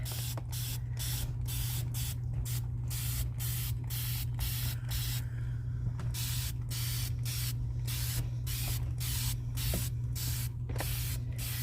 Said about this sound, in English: I'm spraying a bunch.